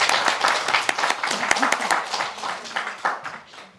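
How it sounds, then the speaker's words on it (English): Close, lively clapping from a small audience at a Kwanzaa celebration in Holyoke, with distinct individual claps and some voices mixed in, gradually thinning over a few seconds. "Let's give her another well-deserved round of applause"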